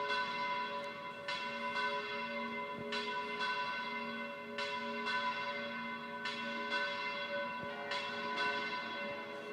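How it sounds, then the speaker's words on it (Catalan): Church bells toll on Saint Joseph's feast day during the Falles in Riba-roja, a ringing peal with repeated strikes at irregular intervals and long sustained, overlapping hums, moderately distant with no voices. "Escoltem les campanes doblant perquè avui és festa"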